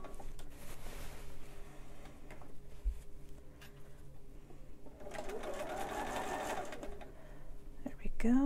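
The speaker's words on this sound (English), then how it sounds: "I'm going to go on top of that and backstitch first, just to make sure that I have everything, so I don't have any holes later." A sewing machine backstitches over a seam on a monk robe, its motor whirring in bursts with pauses and clicks between runs, close by, while a person talks intermittently over it.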